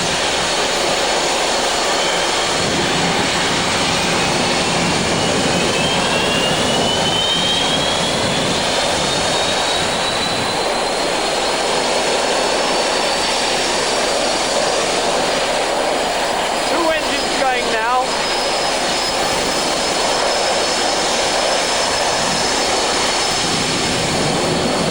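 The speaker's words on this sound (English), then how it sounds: "Still just one engine going, the second engine beginning to start." The turbine engines of an SRN4 hovercraft at HMS Daedalus run and spool up, a loud continuous jet-like roar with rising whine layered over broadband rush, steady for a long stretch.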